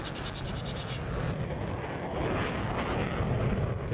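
A Chinese MiG-17 jet with afterburner roars in a combat video game, a loud continuous broadband rush that pulses briefly at first, then holds steady and close throughout.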